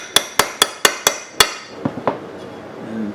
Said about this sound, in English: go to town with the magic hammer here